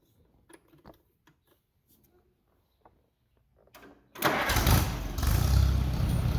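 An old tractor engine cranks and fires up at close range, roaring steadily after a few seconds of quiet shuffling and small knocks.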